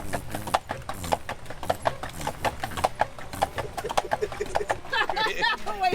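Horses pulling carriages on a street: steady, fairly close clip-clop of hooves in an even rhythm, with a voice speaking toward the end.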